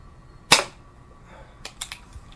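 An air pistol of the Ruger or Buckmark type fires a dart with one sharp, loud crack, followed by a few fainter clicks and taps, with no voices.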